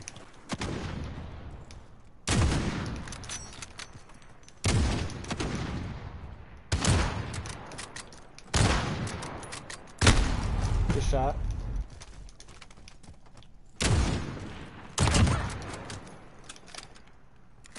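Gunfire in a shooter video game: sharp, loud gunshot bursts recur about every two seconds, each a sudden blast decaying into a brief tail, with people talking over the action.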